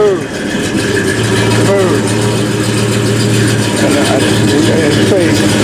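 A 1972 Chevrolet Monte Carlo with Flowmaster mufflers idles steadily with a deep, even rumble, loud and close throughout.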